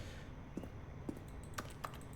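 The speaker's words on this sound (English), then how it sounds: "It sounds like a fucking keyboard." Sparse, clicky keystrokes from a computer keyboard in a video game, a handful of light taps at irregular intervals, faint over a steady low background hum.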